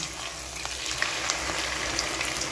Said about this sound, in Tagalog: Ibigay natin sa mainit na mantika. Deep fry siya dapat.